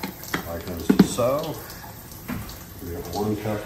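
Hot water poured into a cup for a bee-hive wax moth trap, a short splashing pour with a brief louder gush near the start, faint voices under it.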